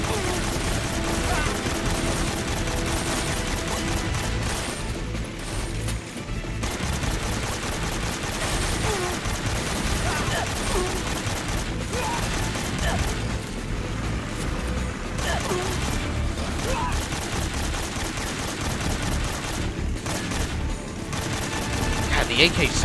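AK rifle fire in Metal Gear Solid 3, dense rattling bursts of automatic shots running almost continuously, loud and close, with brief lulls between volleys.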